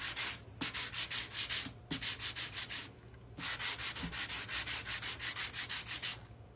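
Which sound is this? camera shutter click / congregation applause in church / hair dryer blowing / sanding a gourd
sanding a gourd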